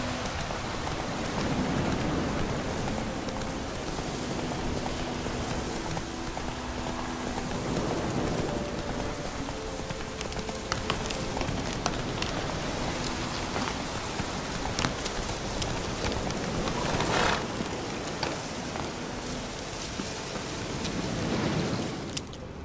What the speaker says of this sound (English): Let it rain.